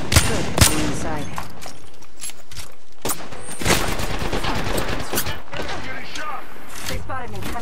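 Bursts of gunfire hitting the player in a shooter video game, loud rapid cracks and volleys that come and go through the whole stretch, under game noise and talk.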